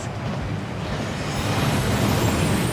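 A rushing waterfall thunders inside the Gringotts vaults in Hogwarts Legacy, a loud, dense, continuous roar that swells slightly toward the end, with no voices over it.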